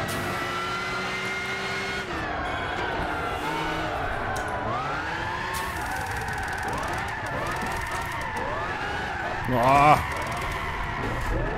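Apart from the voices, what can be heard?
car engine sound in the video game Gran Turismo 6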